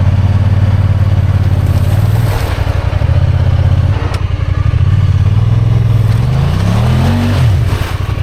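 A Honda Pioneer 1000 UTV with a 27.5% low gear reduction roars steadily while its tires spin in deep, nasty mud, the engine droning loudly and rising in pitch near the end, with no voices.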